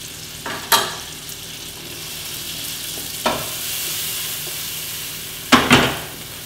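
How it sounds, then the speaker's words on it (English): Halved tomatoes searing in a hot pan give off a continuous bright sizzle, with three sharp louder bursts spaced a few seconds apart as they are moved or turned. "All we're going to do is just lightly sear them if you like."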